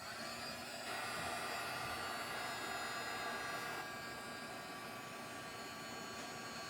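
A heat tool for embossing blows a steady, close, whooshing roar without a break while an art journal page is embossed during a winter craft session.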